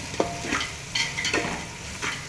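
Spices with turmeric frying in oil for a puffed rice tempering, a soft continuous sizzle marked by a few distinct clanks and scrapes of stirring, close and with no voices.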